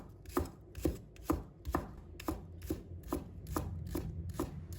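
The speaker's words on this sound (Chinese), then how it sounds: "葱白切成小粒。" Knife chopping scallion whites into small pieces on a cutting board, a quick regular series of about a dozen crisp thuds, close and clear with no talk.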